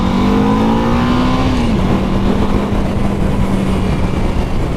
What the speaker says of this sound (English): if I put it into first, it revs up with no throttle